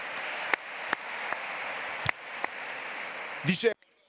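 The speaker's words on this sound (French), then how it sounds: "Un grand applaudissement pour cette maire pour lui dire que nous lui sommes très proches." Applause of solidarity for a mayor from the audience at a Mediterranean conference, a soft sustained patter of clapping with a few sharper isolated claps, ending in a brief loud burst before cutting off.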